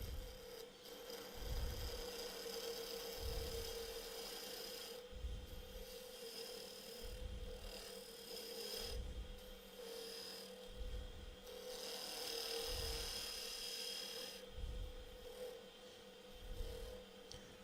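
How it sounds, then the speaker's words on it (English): Wood turning on a lathe with a skew chisel taking peeling cuts: a rhythmic, repeating scraping rasp of steel on spinning wood, pulsing about once a second, fairly faint and steady with no talking. "Come in with a peeling cut,"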